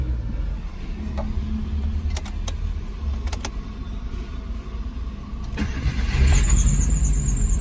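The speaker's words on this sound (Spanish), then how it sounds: "el carro sigue prendiendo" A 2006 Smart car with a transponder fault starts up: keys jangle and click in the ignition, then the small engine catches and runs louder near the end, with no talking.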